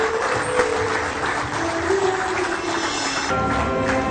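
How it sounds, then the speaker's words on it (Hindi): Steady audience applause at a Jharkhand government event where the Chief Minister hands appointment letters to candidates, a dense wash of clapping held at even loudness throughout. "आप सबकी तरफ से हम सभी के लिए तालियां हो जोरदार"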